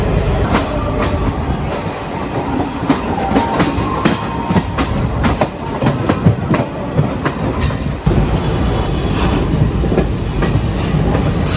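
A train running on the Bengal Nagpur line near Raipur rumbles steadily and loudly throughout, with rhythmic wheel clatter, metallic squeals and clanks, and no talk.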